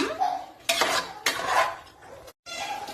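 Ground masala for chicken biryani fries in a pan as a utensil scrapes and stirs it, with a few loud, close scraping strokes over a soft sizzle and one abrupt silent gap.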